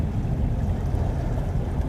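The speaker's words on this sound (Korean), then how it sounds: "바람이나 파도 소리," Steady wind blows over rolling ocean waves, a continuous low roar with a gusty, rumbling texture and no voices.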